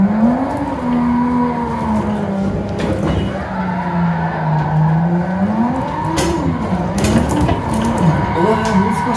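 Simulated race car lapping Meihan Sportsland in a racing simulator game, a steady engine drone rising and falling in pitch through shifts and corners, with faint clatter and tyre noise throughout.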